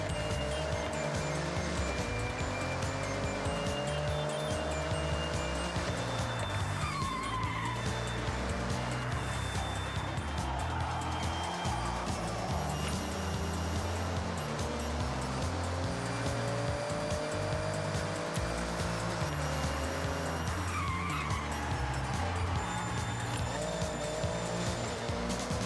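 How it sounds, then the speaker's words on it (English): A car in Forza Horizon 5, driven on a Top Gear test track, revs continuously with engine pitch sweeps from downshifting and several bursts of tire squeal, loud and steady throughout with no talk. "Downshifting."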